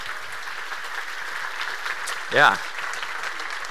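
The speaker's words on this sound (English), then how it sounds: "give a round of applause to all the speakers and the organization" Conference audience applauding, a soft steady patter of clapping throughout, fairly distant and low, with a short loud vocal burst partway through.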